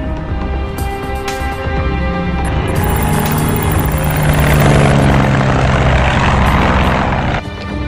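A propeller plane flies overhead in an action-adventure film scene. Its engine gives a loud, steady drone throughout, with no speech.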